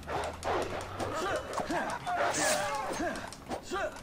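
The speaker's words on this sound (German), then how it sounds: "Die sind auf jeden Fall Hunde." Several dogs bark and yip in the video game Far Cry 4, a cluster of sharp, repeated calls coming in quick bursts, with someone talking over them throughout.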